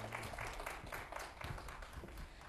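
Audience at a 2011 national Chinese eight-ball billiards ranking match in Ordos clapping to welcome officials, a faint, distant steady patter of applause lasting a couple of seconds.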